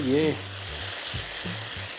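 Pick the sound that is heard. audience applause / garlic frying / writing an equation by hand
garlic frying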